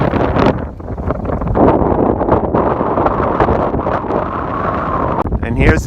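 Strong wind gusts buffet the microphone on the summit of Mount Washington, loud rumbling bursts that rise and fall continuously, with a voice talking underneath.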